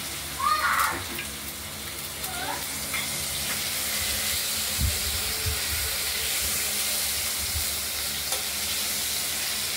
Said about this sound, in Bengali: আলুটা প্রায় ভাজা হয়ে এসেছে।